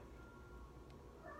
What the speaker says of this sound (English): my cat's trying to get out.